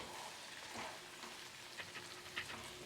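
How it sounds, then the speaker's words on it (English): Paneer stuffing sautéing in a pan for wheat parcels, a soft, low sizzle with light scraping as the mixture is slowly folded, with no talking. "Just saute paneer like this as I'm folding it slowly."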